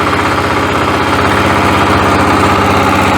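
A WEIMA WM1100B-6 diesel walk-behind tractor engine reverses with a loud, steady, close-up chugging drone and vibration, and no talking.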